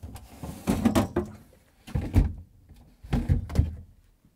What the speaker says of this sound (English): Let's remove the drawers.